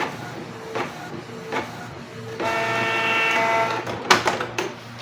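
A Canon CL811 inkjet printer runs a nozzle check after head cleaning, with short clicks early on, then a steady whirring carriage and feed sound of a few seconds ending in sharper mechanical clunks, close and moderately quiet.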